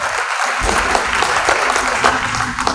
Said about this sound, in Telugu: వారికి గట్టిగా చప్పట్లు కొడుతున్నాం